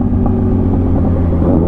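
A car engine drops to a steady low rumble as the throttle is cut while driving without using the clutch, a loud, close, even drone with no talk.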